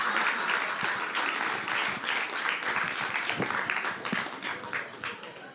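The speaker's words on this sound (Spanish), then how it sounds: "La gente te está aplaudiendo." Sustained applause from an audience at a book presentation fills the whole stretch, dense steady clapping that tapers slightly toward the end.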